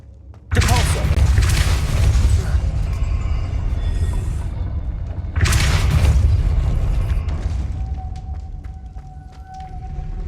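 The Depulso spell is cast twice in the game Hogwarts Legacy, each cast a heavy booming surge with rumbling low end that slowly fades, loud and close, followed by faint clicking.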